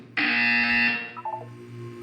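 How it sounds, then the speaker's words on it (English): Portal 2 test-chamber buzzer: a single loud, harsh electronic tone lasting about a second, then a short trailing chime and room tone. "You will hear a buzzer. When you hear the buzzer, look up at the ceiling."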